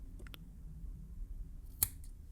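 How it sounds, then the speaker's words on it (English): A single crisp snip of scissors cutting Maviton X cotton wick flush with the deck of a Cloud Mods Cloud X RTA, preceded by a couple of faint handling clicks in a quiet room. "I cut my cotton pretty much flush with the deck"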